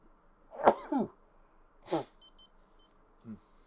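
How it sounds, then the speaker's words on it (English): A single sharp, explosive sneeze bursts out near the mic, followed by a few soft electronic beeps and a faint breathy sound. "I gotta blow my snoozer. Or sneeze."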